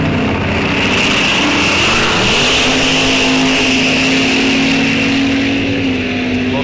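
A Pinto and a 1969 Chevelle launching side by side at Rock Falls Raceway's NHRA drag strip, a loud sustained engine roar with a clear rising pitch as the cars pull away.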